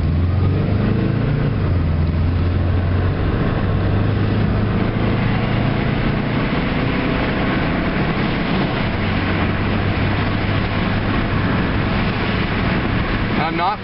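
A 1992 Subaru pulls away from a dead stop at about half throttle, its engine droning and climbing gradually through gears with a shift partway in, steady and close beneath constant road and wind noise inside the cabin.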